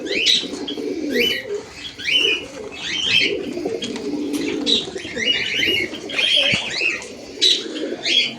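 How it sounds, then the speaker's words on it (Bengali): Pigeons held in a bag coo repeatedly and close up in soft, muffled bursts, with a few chirps mixed in and no voices. "পায়রাগুলো সব ধরা হয়ে গেছে। তো পায়রাগুলো ব্যাগের মধ্যে নিয়ে নিয়েছি"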